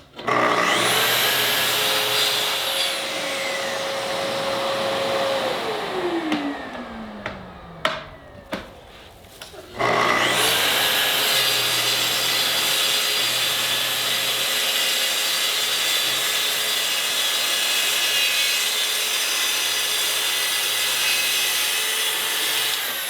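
A Festool track saw cuts through wood, its motor whining loudly as it spins up, bites into the board, stops briefly with a few knocks, then runs again for a long, steady cut, with no talking.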